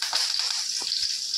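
A tempering of hot oil and asafoetida sizzles steadily in a pan, a bright hiss carrying a few soft low knocks, close and fairly loud with no talking.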